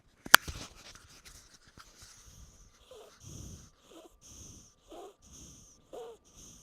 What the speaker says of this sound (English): I want everyone to hear this baby goat snoring in my microphone